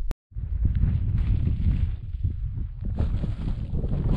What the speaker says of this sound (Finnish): Jännä, että ihan kun tässä tuulisi enemmän kuin tuolla ihan ylhäällä.